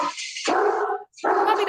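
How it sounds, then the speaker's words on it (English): A dog barks loudly and close in two bursts with a short gap between them, with no talk over it. "Puppy dogs."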